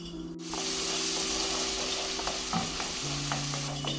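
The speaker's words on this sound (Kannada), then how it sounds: "ಸೊ ಇದು ರುಬ್ಕೊಂಡಿದ್ವಲ್ಲ, ಈರುಳ್ಳಿ, ಹಸಿಮೆಣಸಿನ್ಕಾಯಿ, ಆಮೇಲೆ ಕ್ಯಾಶ್ಯೂ ನಟ್ಟು, ಅದನ್ನು ಇದಕ್ಕೆ ಹಾಕಿ" A ground paste of onion, green chilli and cashew nuts fries in ghee, giving a steady close sizzle with spoon-stirring scrapes and clinks throughout.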